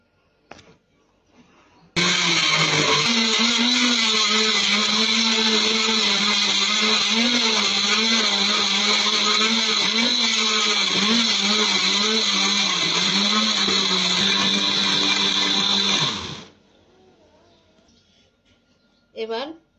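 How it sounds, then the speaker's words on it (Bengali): A blender whirs loudly and steadily for about fourteen seconds, blending green mango juice ingredients with cold water, then winds down to quiet, with a brief noise near the end. "এবার আমি সবগুলো উপকরণ একসাথে ব্লেন্ডারে দিয়ে দিয়েছি।"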